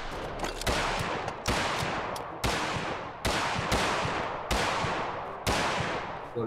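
Minigun fire in PUBG comes as a string of about eight loud, heavy bursts at a steady pace, each with a sharp onset and a trailing decay before the next.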